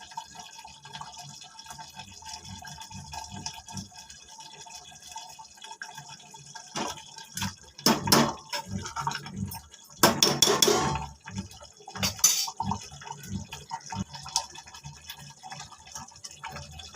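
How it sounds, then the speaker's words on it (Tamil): Mutton gravy bubbling in a pot on the stove, with faint irregular pops and liquid sputters that grow busier and louder in bursts midway before settling back to quieter bubbling. "நல்லா கொதிக்குது."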